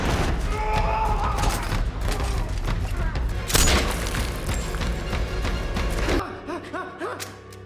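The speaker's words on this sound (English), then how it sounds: "When one of the remaining robbers identifies him, the shooting intensifies." Intense gunfire and heavy booms from a film shootout during an armored truck robbery, with dense overlapping shots and blasts that are loud and continuous for several seconds before abruptly dropping away near the end.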